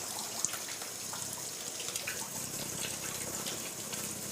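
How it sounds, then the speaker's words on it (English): Running tap water pours steadily while hands are washed with soap after handling raw meat and eggs in a home kitchen, a soft continuous gush heard alone at close range. "then I wash my hands with soap."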